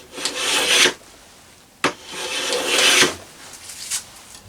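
Faithfull No. 4 hand plane shaving wood in two long, rasping strokes, each a broad scraping sweep that ends sharply, with a brief knock between them and a lighter scrape near the end; close and fairly loud, no talking.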